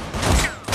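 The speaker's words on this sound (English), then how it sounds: "The bullets like ricochet off of him, hit him or hit the Ramona Flowers girl" Burst of gunfire from the movie Shazam!, a short loud fusillade of rapid shots with no voices over it.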